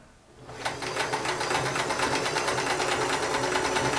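A Sears Kenmore 158 series free arm sewing machine stitches steadily after a brief quiet start, its rapid, even mechanical chatter loud and close throughout.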